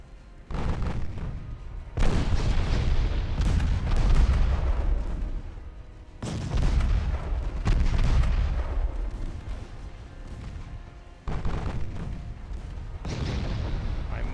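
Heavy naval guns from warships in Ultimate Admiral Dreadnoughts boom in a series of loud, deep blasts, each volley rumbling and decaying before the next, with several distinct salvos spread across the stretch.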